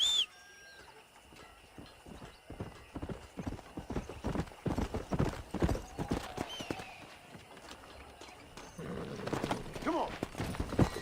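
Horse hooves clip-clopping in the Red Dead Redemption video game, a rhythmic run of close, crisp hoofbeats that builds and quickens, with a brief whinny and some speech over the top.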